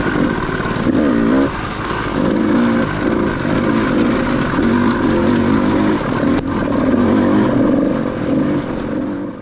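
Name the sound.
KTM 200 dirt bike riding over riverbed obstacles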